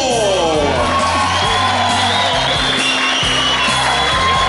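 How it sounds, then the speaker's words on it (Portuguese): Crowd at a live rock music revival show cheering, whooping and clapping for the rhythm guitarist, loud and continuous with shouts over a sustained amplified tone and some bangs. "Eu queria que você aplaudisse bastante ele que faz a guitarra base meu amigo"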